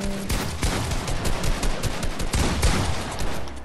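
Rapid gunfire in the Fortnite video game, a loud, dense burst of overlapping shots crackling almost continuously for a few seconds, close and without talk.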